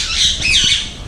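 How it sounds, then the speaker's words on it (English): Rose-ringed parakeets squawking outdoors, a couple of harsh, loud, close squawks in quick succession. "So you have the rose ring parakeets out here."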